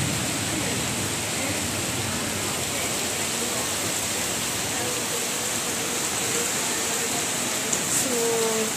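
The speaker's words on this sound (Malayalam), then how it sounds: "അപ്പം നോക്കിയപ്പോൾ മഴ പെയ്യുന്നു" Rain falling steadily during a rare shower with thunder in the area, a continuous broadband hiss that stays even and moderately loud throughout, with no talk over it.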